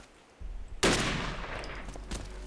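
Gunfire in an old sniper mission video game: a quiet low rumble, then a sharp loud shot with a long decaying echo and a faint later crack, no talking.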